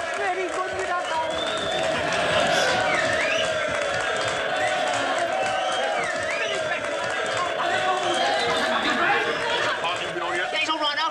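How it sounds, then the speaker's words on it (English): A large crowd of soldiers breaks into steady applause and cheering after the announcement of the war's end, a dense, continuous roar of clapping and chatter heard at some distance with voices speaking over it. "Listen to that applause."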